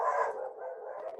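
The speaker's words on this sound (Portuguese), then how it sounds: "Olha meus cachorros latindo." Dogs barking at home, heard faintly in the distance as a short, muffled run of barks and yips with no talk over them.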